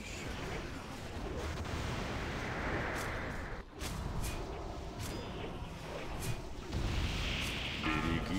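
Dense, continuous rumbling blasts and crackling bursts from explosions in a video game raid boss fight fill the scene, with sharper pops cutting through; faint voices talk briefly underneath.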